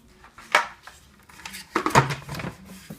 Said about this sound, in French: On va mettre le couvercle.